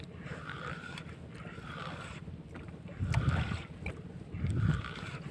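Steady low engine drone of fishing boats on the open sea, with wind noise and two louder swells of motor rumble passing nearby.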